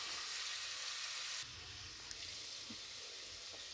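Two sliced onions sautéing in a pan for quail gravy, a soft steady sizzle and crackle that drops in level partway through, with a small tap of utensil against pan; no voices.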